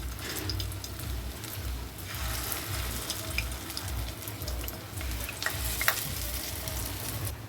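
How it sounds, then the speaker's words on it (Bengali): Egg and soybean kofta balls deep-frying in hot oil in a wok, a continuous bubbling sizzle with scattered crackles and spatters and soft stirring clatter beneath, moderately quiet and close. "কড়াইতে আমার তেল গরম হয়ে গেছে, এবার আমি এগুলো একটা একটা করে বড়ার মতন করে ভেজে নেব।"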